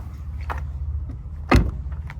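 Renault Megane compact sedan locking itself automatically as its keyless owner walks away, a single sharp mechanical clunk and brief chirp against faint outdoor background, with a softer click just before.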